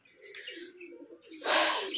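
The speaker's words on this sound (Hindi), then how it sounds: "कबूतर सारे किस तरह गुस्सा कर रहे हैं बाहर आके" Soft, low cooing from pigeons close by, with a rustling, flapping burst near the end.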